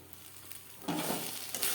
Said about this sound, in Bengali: যতক্ষণ না পর্যন্ত কড়াই থেকে ছেড়ে আসছে ততক্ষণ পর্যন্ত অনবরত নাড়াচাড়া করতে হবে